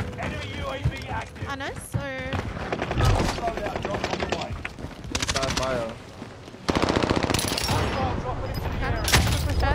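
Rapid gunfire crackles through a multiplayer shooter video game, with bursts of shots mixed into game sounds while players talk excitedly over it.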